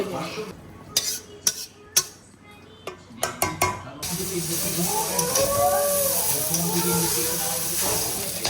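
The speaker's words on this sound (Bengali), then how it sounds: "সবজি ভাজা হয়ে গেল ভাজা হয়ে গেল এবার চাউমিনগুলো" Vegetables and chow mein being cooked in a pan in a home kitchen: sharp utensil clatters and scrapes come first, then a steady sizzle with stirring, close and fairly loud.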